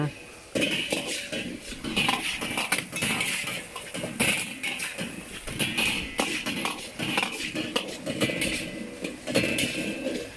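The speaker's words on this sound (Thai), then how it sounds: "ฟังเสียงกระทะ" Continuous metallic clattering and scraping of a steel wok and utensils as a cook works at a Thai temple festival, busy and close, with voices talking underneath throughout.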